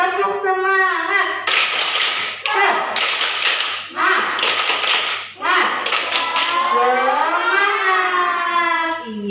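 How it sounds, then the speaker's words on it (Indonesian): Children in a classroom perform a rhythmic spirit clap, with short bursts of group clapping alternating with sung or chanted voices in a regular pattern. "Iya, tepuk semangat dulu yuk."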